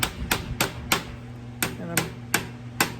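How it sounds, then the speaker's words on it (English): A small-faced hammer strikes a sheet metal flange with glancing blows, about nine sharp metallic taps in an uneven rhythm, each ringing briefly, loud and close with no talk. "I've switched to a smaller faced hammer now,"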